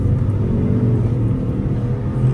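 A Ford Expedition Platinum SUV accelerates with a steady, loud, low engine rumble and road drone that holds throughout with no voices.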